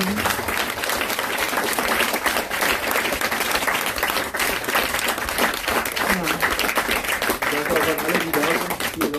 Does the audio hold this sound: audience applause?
yes